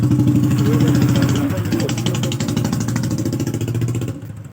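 A Mahindra Yuvraj 215 small tractor runs with a close, loud diesel chug and a steady pulsing throb. The engine drops slightly in level before cutting off abruptly at the end.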